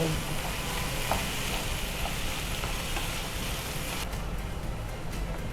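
Potatoes frying in a pan for an aloo methi dish, a steady broadband sizzle running throughout at close range with no talk over it.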